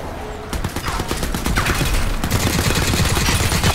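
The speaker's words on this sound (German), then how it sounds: "Das hatten da auf uns geschossen" Enemy gunfire in the video game Crysis 3, loud, dense rapid bursts of shots continuing steadily throughout, close and sustained.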